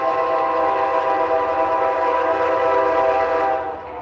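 A locomotive nicknamed Patches rolls past, its steady, loud rumble and dense tonal drone holding level throughout before easing off slightly at the end, with no voices.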